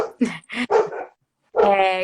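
Dogs bark several times in a quick run of close, loud yelps, then fall silent before a longer whining or howling call.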